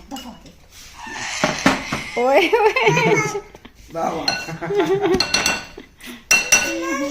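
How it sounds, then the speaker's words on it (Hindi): Dishes and cutlery clatter and clink as plates are cleared after an iftar meal at home during Ramadan, with scattered clanks under lively talk and laughter from several people, including children. "हाँ जी, अब बर्तन उठाए जा रहे हैं, खाना खुना हो गया।"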